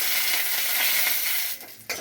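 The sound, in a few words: dry chilli, mustard seeds, curry leaves sizzling in tempering oil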